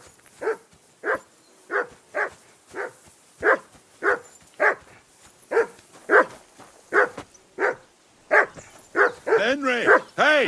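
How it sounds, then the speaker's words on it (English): Dog barking in the video game Kingdom Come Deliverance II, about fifteen evenly spaced barks at moderate distance, then a voice shouting over the last ones. "Call off that mutt of yours!"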